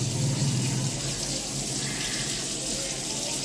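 Water pours steadily from a tap while laundry and bedsheets are washed before moving house, a continuous close hiss and splash with no talk.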